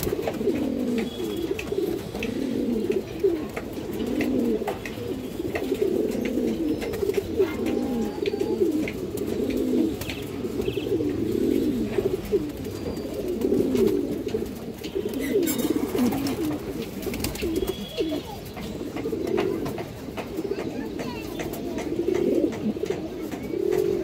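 Bagha pigeons, including a lively pure Bagha male, coo steadily and close by in overlapping low throaty phrases, a continuous chorus with faint chirps and a few clatters in the background.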